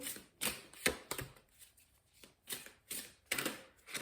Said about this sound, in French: Alors, on va sortir sa carte.